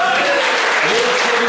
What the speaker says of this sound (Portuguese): Vocês gostariam de aplaudir ao Senhor Jesus?